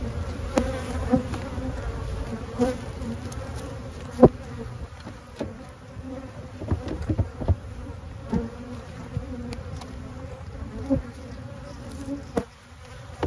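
Honeybee colonies buzz steadily in their hives, a continuous close drone with occasional louder bees passing near.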